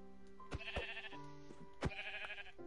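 Sheep in the Minecraft video game bleat twice, clear and close, over a steady backdrop of game music.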